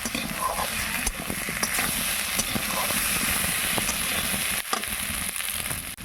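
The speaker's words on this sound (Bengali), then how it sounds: "দেখো খুব সুন্দর করে কষিয়ে নিচ্ছি" Mutton being kosha-fried in a pan for a village-style red curry, a dense close sizzle and hiss with spatula scrapes and stirring knocks throughout.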